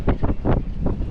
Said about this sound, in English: the weather has just changed and it is quite choppy and windy.